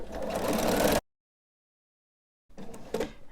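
A sewing machine runs steadily for about a second while quilting straight lines on a Rock Candy quilt, goes silent, then starts again for another short burst.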